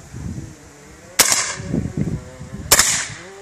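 Two sharp, loud rifle shots from a Cooey 25 Canuck, an old light takedown rifle, spaced about a second and a half apart, with quieter shuffling and handling noise between them.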